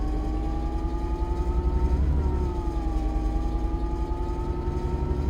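Class 66 diesel locomotive running at full notch 8 power in the Train Sim World 3 game: a steady, heavy engine drone with a throbbing low rumble and a slight shift in pitch midway, with no voices.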